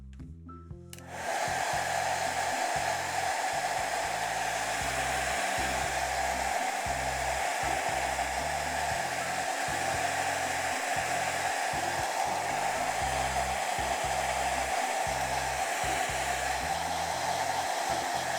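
A loud heat-gun-style drying tool, used on pine cone decorations, switches on after a second of quiet and blows air in a constant roaring whoosh with a low rumble.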